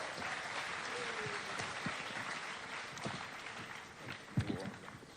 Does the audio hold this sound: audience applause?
yes